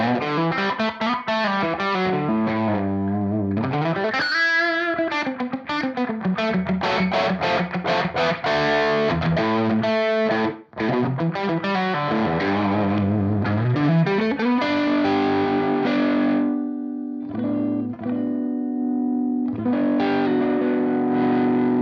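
Overdriven electric guitar through a pedal preset emulating a 100-watt Dumble-style amp stack plays expressive lead lines with bends and sustained notes, warm and distorted, loud and alone.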